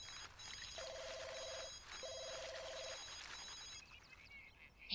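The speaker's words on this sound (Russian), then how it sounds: "Опять Микки звонит, господи" A telephone rings in The Sims video game, two evenly spaced electronic trilling rings, clear and fairly close, over a quiet ambient background.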